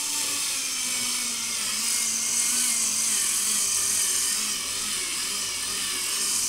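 An electric drill bores holes in the side panel of a shelf being built from scratch. It gives a continuous, close, high-pitched whirring drone at a fairly even pitch throughout, with no voices over it.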